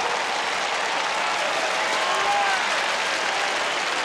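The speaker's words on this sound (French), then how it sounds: "Je vous demande d'applaudir très fort le baryton mondialement connu" Loud, sustained applause from a large audience welcoming a baritone singer, steady clapping throughout with no talking over it.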